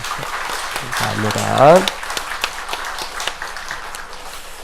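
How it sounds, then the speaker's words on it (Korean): Church congregation at a dawn prayer service breaking into applause, a short burst of clapping that swells briefly and fades, with a voice speaking over it. "그런 의미에 서로 축복의 박수 한번 할까요?"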